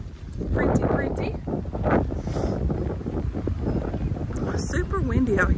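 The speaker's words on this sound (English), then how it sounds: "Super windy out here." Strong gusts of wind buffet the microphone during an outdoor walk, a constant low roar throughout with a voice talking over it.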